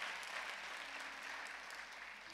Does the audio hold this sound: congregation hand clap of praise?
yes